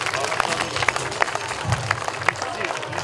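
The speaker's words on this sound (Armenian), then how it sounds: "եկ ծափահարենք" Applause from an audience at a song and dance festival honoring Ashugh Alik of Javakheti, moderate clapping in an indoor hall with a few sharper claps standing out and a low murmur underneath.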